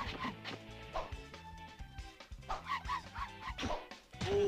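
A cartoon dog in the video game Simpsons Wrestling barks and yips in quick, irregular bursts amid game music and effects, fairly quiet overall.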